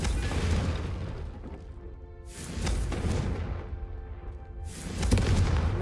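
Confringo fire spell explosions from Hogwarts Legacy, three heavy fiery bursts a couple of seconds apart, each a loud close boom that crackles and fades before the next.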